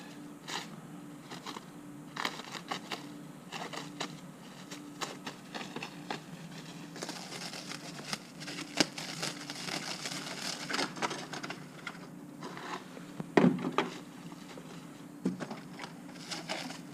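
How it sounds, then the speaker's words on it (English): Packaging being unwrapped from a shark tooth sifter, quiet crinkling and rustling of plastic and cardboard in irregular bursts, close and faint, with no talk. "So we're going to unwrap this."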